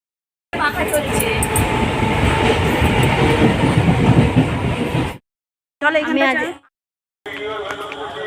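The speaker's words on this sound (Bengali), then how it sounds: "ট্রেনটা এলো ট্রেনটা" A train pulls into a station with a loud, continuous rumble and clatter lasting several seconds, followed by short bursts of nearby voices and noise.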